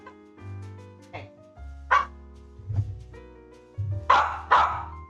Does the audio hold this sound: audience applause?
no